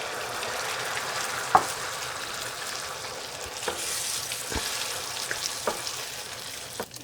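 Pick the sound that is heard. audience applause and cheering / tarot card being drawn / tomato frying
tomato frying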